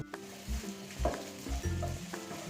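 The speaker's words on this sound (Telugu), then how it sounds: "ఇది మనం వేసిన అల్లం వెల్లుల్లి ఇది కూడా బాగా ఫ్రై అయిపోయింది" Ginger and garlic fry in a pan, giving a steady close sizzle under repeated stirring strokes and soft scrapes of a spoon against the pan. No voices.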